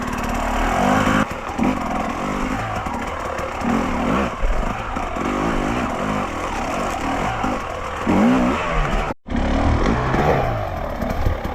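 A Fantic XE 300 enduro motorcycle roars through a hard enduro track, its engine revving and bogging continuously up close, with throttle bursts and a brief sharp cutout near the end before the loud engine picks up again.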